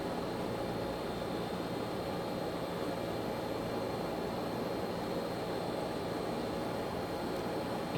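Hawker HS748 turboprop engine winding down after its startup, a steady, broad airy roar with faint whining tones running unchanged throughout, no voices present.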